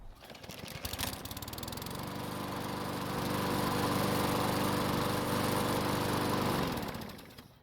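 A hot Yard Machines lawn mower engine cranks over and fires back up, settling into a loud, steady running drone close by that holds for several seconds before fading at the end.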